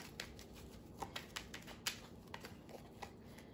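Oracle cards being shuffled by hand, a soft papery riffle of repeated light flicks and taps at close range, quiet and steady with no talking.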